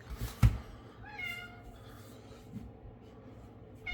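A house cat meows several times in a kitchen where biscuits are being made, the rising and falling calls clear and fairly close, with a bump and low room noise between them.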